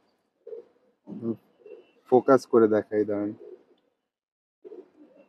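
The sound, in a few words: pigeon cooing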